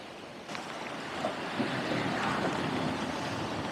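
A sea wave rolls in and breaks on the rocky shore at Elgol in Scotland, a faint, rising wash of surf mixed with wind that swells and then settles into a steady rush.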